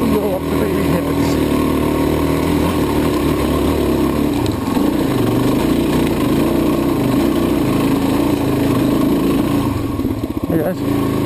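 An ATV engine climbs a rocky forest trail in first gear with a loud, steady, close drone that labors and fluctuates slightly, with people talking over it.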